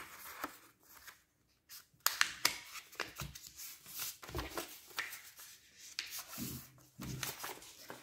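A sheet of paper is folded from each side in toward the middle, giving soft crinkles, rubs and sharp creasing swipes in quick irregular bursts, close and fairly quiet, with no talk.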